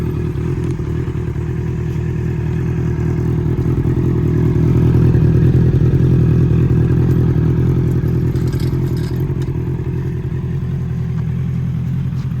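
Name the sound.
Honda CBR650R motorcycle engine running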